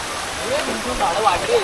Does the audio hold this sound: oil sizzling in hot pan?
no